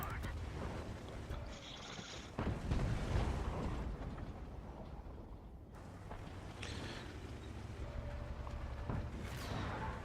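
A tank cannon shot in World of Tanks during a Frontline battle: a heavy booming blast about two seconds in, followed by rumbling game noise and engine drone, with someone talking over it.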